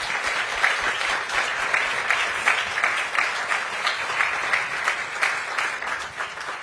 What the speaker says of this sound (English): Please join me in giving them a round of applause